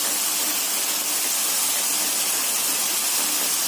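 Onions with green chillies and curry leaves fry in a pan, giving a steady, even sizzle and hiss that runs on alone with no talk.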